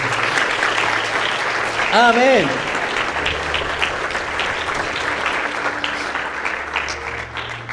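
A church congregation at a Spanish-language service claps continuously, a full, lively round of applause, while a voice calls out briefly over it near the start.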